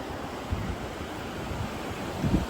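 Ocean waves at the sea wash in with a steady broadband rush, gusts of wind buffeting the microphone and a low surge swelling near the end.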